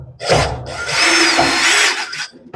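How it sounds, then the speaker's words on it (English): A cordless power drill backs a Phillips screw out of a Samsung dryer's panel, its motor whirring close and loud in two bursts, with a long steady run in the middle and a brief restart at the end. "with my drill"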